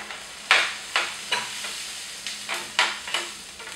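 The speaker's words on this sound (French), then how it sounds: "je veux maintenant venir couvrir d'eau pour cuire mes pommes de terre" Potatoes browned in a hot pan give off repeated short sizzling bursts about every half second as water goes over them. The hiss flares and fades with each burst, steady and close, with no voices.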